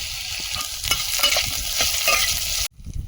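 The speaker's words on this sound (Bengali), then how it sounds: "কড়াইতে তেল দিয়ে দিচ্ছি" Cumin seeds, dried chilies, crushed garlic and chopped onion frying in oil in a wok, giving a loud, steady sizzle with scraping stirs for most of the time before it cuts off abruptly near the end.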